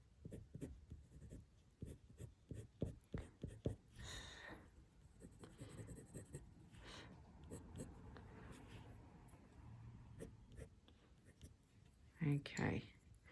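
Colour pencil scratching across paper while drawing feathers, a soft irregular scraping with many short strokes at close range, faint overall, with one brief louder rustle near the end.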